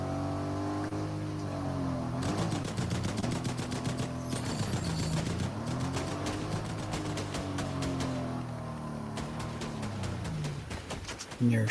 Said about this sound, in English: And they're shooting at each other.